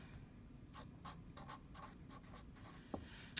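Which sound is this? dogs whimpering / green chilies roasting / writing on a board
writing on a board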